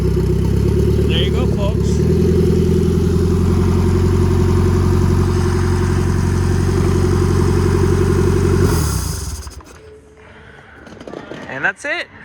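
A stock S13 SR20DET in a 1993 Nissan 240SX running on a standalone ECU revs loudly and steadily, then drops off sharply to a quieter idle with a few small blips, and someone speaks briefly near the end.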